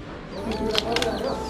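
A chicken clucks in a few short bursts during a roadside stop in Sikkim, India, set against a steady outdoor background hum.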